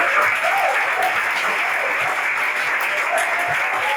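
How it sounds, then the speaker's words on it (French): Crowd applauding at an anniversary tribute celebration, a standing audience clapping in a continuous even wash of many hands that holds steady from start to finish. "Nous allons nous lever et applaudir Maman Olga."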